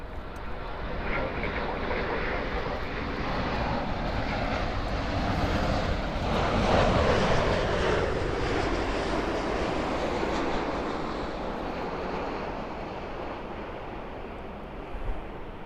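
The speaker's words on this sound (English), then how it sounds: "Got another 787 Dreamliner coming in" A Boeing 787 Dreamliner comes in to land at Los Angeles International Airport, a loud broadband jet roar that builds to a peak midway and then slowly fades, continuous and alone with no voices.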